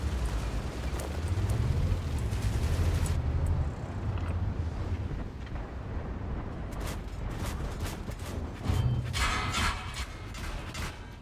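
Tank cannon fire and explosions in the World of Tanks video game: heavy low booming bursts and rumbling blasts across the clip, loud and continuous, with a fresh burst near the end.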